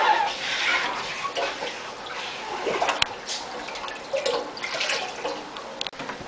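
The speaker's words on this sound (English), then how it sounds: "I usually siphon out the water into a 5-gallon bucket" Aquarium water from a 10-gallon tank trickling and splashing steadily into a 5-gallon bucket through a siphon, close and continuous with small irregular drips and gurgles.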